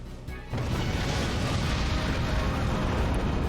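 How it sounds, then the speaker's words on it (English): An explosion sound effect in the MUV LUV Alternative visual novel, a sudden loud burst followed by a dense, sustained rumbling roar that stays full and steady, with no talking. "Unless the top half exploded too."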